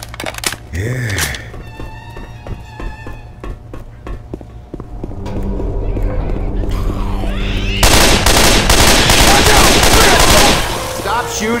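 Gunfire in the video game Left 4 Dead 2, scattered shots building into loud, rapid continuous firing toward the end, with game sounds and voices mixed in.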